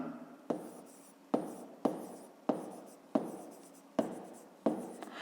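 Pen strokes scratching on paper as numbers are written by hand for a fifth-grade math exercise, in short repeated bursts about every second, close and clear with no talking.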